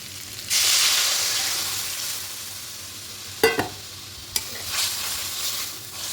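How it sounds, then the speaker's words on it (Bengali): Sugar in a cooking pot being stirred as it melts: a soft sizzling hiss that fades over several seconds, broken by a couple of sharp clacks of the spoon against the pot. "একটু হালকা নাড়াচাড়া করে নেব"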